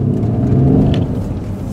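A 2015 Mercedes-Benz ML63 AMG pulling away, heard as a loud, deep engine rumble and whir from close by that swells briefly as it accelerates, with no voices.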